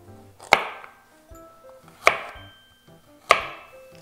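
Three crisp knife strokes cutting a peeled carrot into 5 mm slices, each a sharp close chop on a board, spaced about a second and a half apart with quiet in between.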